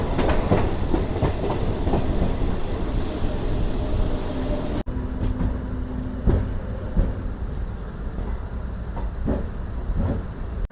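A DEMU passenger train from Secunderabad to Siddipet rolls along steadily, close and loud, its rumbling carriages giving off a rhythmic clickety-clack over the wheels.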